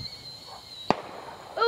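Fireworks exploding at night outdoors, with one sharp, fairly distant bang in the middle of a quiet stretch and another burst starting at the end.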